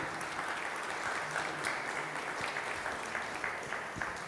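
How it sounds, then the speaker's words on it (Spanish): A church congregation claps together, a soft, sustained patter of many hands that stays even and fairly distant with a few sharper claps near the end. "Vamos a darle un aplauso al Señor,"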